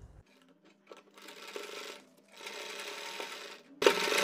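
A sewing machine stitches along the edge of a kurti in two longer runs separated by short pauses, then starts again with a louder burst at the end, heard close and alone.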